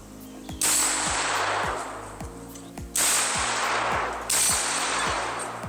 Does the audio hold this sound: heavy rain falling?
no